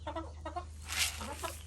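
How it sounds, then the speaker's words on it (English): Chickens cluck softly in short, pitched bursts over a low steady hum, with a brief breathy rustle in the middle. "I am late getting out here with my chickens, so I'm sure that they're starving."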